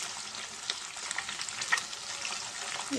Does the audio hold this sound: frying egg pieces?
yes